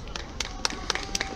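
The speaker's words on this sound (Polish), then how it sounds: "wielkie brawa!" A film festival audience claps in a brief burst of sharp, overlapping handclaps that sound fairly close.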